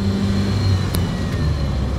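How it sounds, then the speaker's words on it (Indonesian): A Lancer car cruises along the JORR toll road in Jakarta, with a steady, close engine and tyre rumble that holds even throughout and has no talking over it. "Saya melakukan perjalanan dengan mobil"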